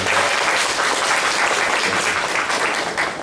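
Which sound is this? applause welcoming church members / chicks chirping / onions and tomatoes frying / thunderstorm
applause welcoming church members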